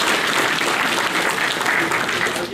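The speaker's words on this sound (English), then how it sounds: "Round of applause for Andrew." Seminar audience applauding at a car restoration event, steady dense clapping throughout, loud and close, fading slightly at the very end.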